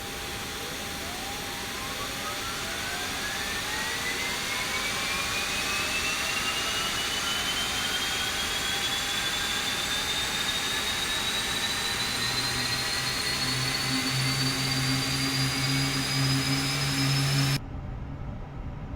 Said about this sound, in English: That low whining sound